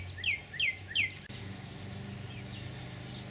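Three quick descending bird calls ring out in a row, followed by faint chirps over a soft outdoor background hum.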